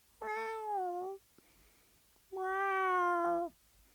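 A cat gives two drawn-out, wavering meows separated by a short pause, close and clear against a quiet background.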